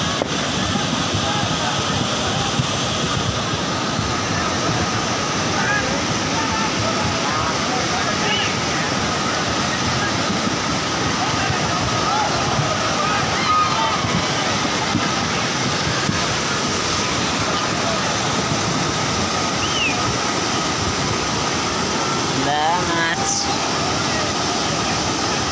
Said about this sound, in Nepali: खोलाको बाडी